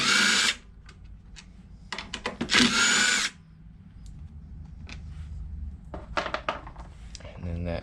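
A power tool whirs in short bursts while removing bolts from the air cleaner housing of a Toro Recycler lawn mower, close and loud, with clicks and handling noises between bursts and someone talking in between.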